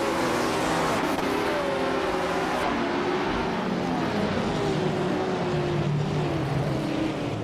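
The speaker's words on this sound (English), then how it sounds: "the race kicks off at Monaco and looks like Bot Sikopal is starting on pole in a slick 1964 Ferrari 158" Vintage 1964 Ferrari 158 racing cars starting at Monaco, a dense roar of several engines revving and pulling away, with rising and falling pitch as they accelerate, loud and continuous.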